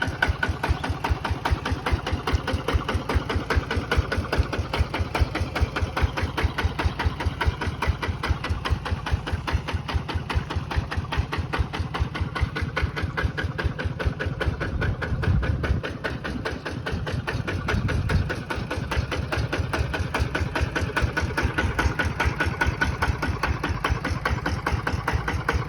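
Small homemade Khmer-built tractor engine running steadily, a close, loud, even chugging idle with rapid regular pulses throughout, briefly dipping near the middle before resuming the same rhythm, with no talking.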